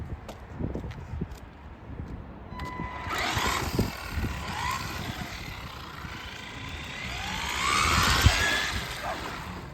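An FTX Evo30 RC street car whines as it drives, its high-pitched electric motor rising and falling in pitch as it speeds past, with a close rumbling background throughout.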